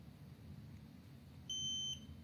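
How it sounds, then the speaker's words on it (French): An electronic device gives a single steady beep right after being switched off, a bright tone lasting about half a second over a low background hum in a quiet room. "Éteins-le un peu pour voir s'il fait un bip."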